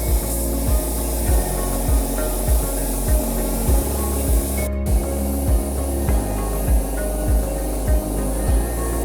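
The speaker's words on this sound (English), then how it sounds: "When spraying paint, make sure to apply it evenly so that every area is uniformly covered." Spray gun applying red paint to a laser-cleaned metal gate, a steady hissing spray under a regular pulsing mechanical thump from the equipment, continuous throughout.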